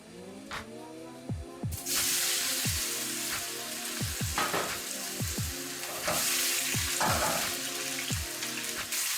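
Loud, steady sizzling of potatoes frying in hot oil in a pan, with repeated scraping and clanking of a utensil against the pan.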